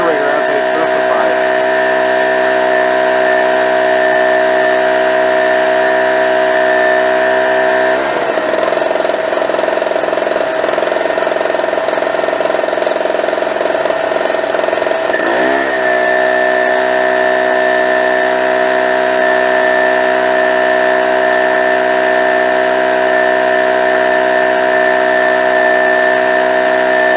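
A Harbor Freight Storm Cat two-stroke generator runs steadily and loudly throughout, its droning hum dipping briefly partway through before resuming at full strength.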